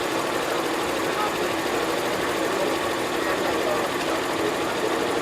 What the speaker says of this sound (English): it is the quietest compressor I've ever stood next to